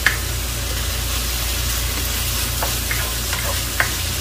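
Chicken pieces fry in a pan with a constant close hiss of sizzling oil and a few faint clicks scattered over it.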